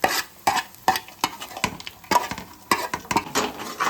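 Onions frying in a pan and being stirred, a steady sizzle broken by regular scraping strokes of the spoon roughly every half second, close and clear.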